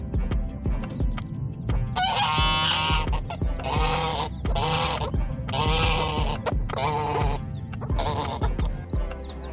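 A group of farmyard geese honks loudly and close by in several harsh bursts, with scattered clucks and rustling in between and no voices.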